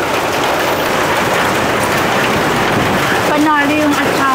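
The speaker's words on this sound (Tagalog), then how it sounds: "Bumagsak na yung malakas na ulan." Heavy rain pounding down outdoors at a busy grill food stall, a loud continuous wash of dense noise that never lets up, with a voice speaking over it near the end.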